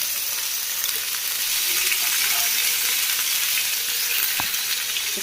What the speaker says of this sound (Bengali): এবার আমি সাইডে আদা বাটাটা দিয়ে দিলাম। সেটা একটু ছিটকাচ্ছে।